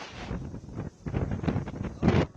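Strong wind from Cyclone Ditwah buffets the microphone on the Tamil Nadu coast, with loud gusty roaring bursts in uneven waves and no talk.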